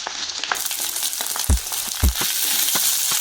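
Sliced onion and green chilies frying in a pan, a bright continuous sizzle broken by a couple of heavy thumps and stirring scrapes, close and loud with no talk.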